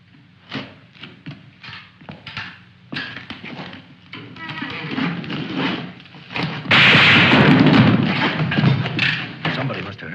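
Gunfire in a 1953 war film, heard as a series of sharp, loud shots that builds into a dense, sustained burst of firing and booming near the end.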